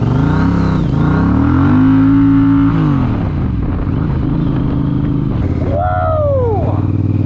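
Triumph Speedmaster 865 motorcycle riding into a western headwind, engine droning loud and continuous with shifting pitch under heavy wind buffeting throughout.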